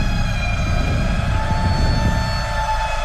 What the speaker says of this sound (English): That bees synth that I love so much